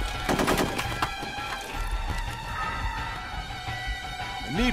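Sustained automatic gunfire in the 2004 military squad game Full Spectrum Warrior, a rapid continuous rattle of machine-gun bursts that stays loud and close throughout, with no talk.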